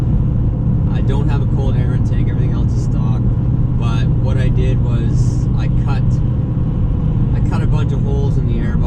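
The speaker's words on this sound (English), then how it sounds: "It sounds great. I've got the Borla dual exhaust." A deep, steady engine rumble from a high-mileage Toyota Tundra pickup with a Borla dual exhaust, its low throaty tone running throughout while someone talks over it.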